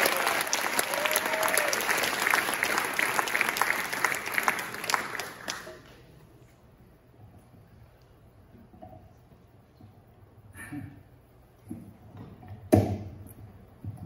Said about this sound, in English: So let's give a round of applause for Pedro.